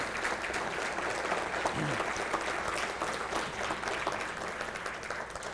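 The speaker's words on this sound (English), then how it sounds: "I'd be very happy if you'd join me in applause for all of them." Audience applause fills an evening hall of fame induction ceremony, a steady wash of many hands clapping at even loudness throughout, with no voices rising above it.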